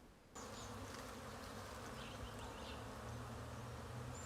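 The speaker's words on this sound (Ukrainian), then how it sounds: "Ви подивіться, що робиться на пасіці, який гарний льот бджоли літають, збирають" A dense, steady buzzing of many honeybees flying close by at an apiary, a continuous droning hum with no talking.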